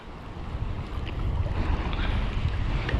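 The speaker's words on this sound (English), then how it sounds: "the wind is directly in my face right now" Wind gusting straight into the microphone on the shore while lure fishing, a loud continuous rumbling buffet with water washing faintly beneath, rising slightly over the few seconds.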